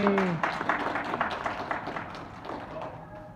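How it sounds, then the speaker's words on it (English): A roomful of people claps in a steady round of applause at an initiation ceremony, with a brief voice at the start and the clapping fading slightly toward the end. "You can give her a round of applause."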